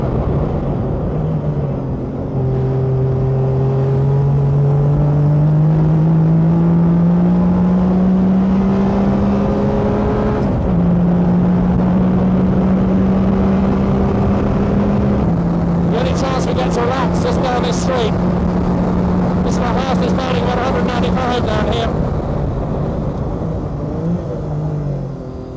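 A Rothmans Porsche race car at Monza in the 1984 World Sportscar Championship climbs through fourth and fifth gear, its engine note rising steadily with clear drops at each shift, loud and continuous, while a commentator talks over it and other cars pass.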